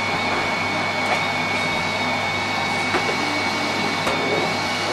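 A Miele C3 vacuum cleaner runs steadily at close range, a continuous whining, airy roar with a high tonal hum and a few faint knocks, no talking.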